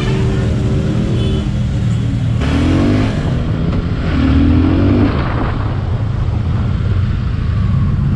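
A Suzuki Gixxer 250 motorcycle being ridden, its engine droning loud and close with brief rising revs as it pulls away, steady throughout with no talking.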